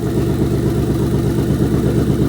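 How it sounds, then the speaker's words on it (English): A Ford Mustang engine idles steadily and loudly up close after an intake and throttle body swap, a low rumbling chug with a constant rhythmic throb and no other sounds. "I've let the car idle."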